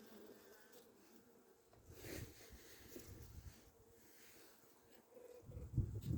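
Honeybees buzzing on a hive's brood frame where the queen moves among larvae, a steady low insect drone that swells in bursts and grows louder near the end.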